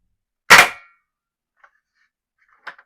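An AGM MASTECH AWM soft-bullet toy sniper rifle fires one sharp, loud snapping shot, followed by a couple of faint small clicks from the mechanism in otherwise near silence.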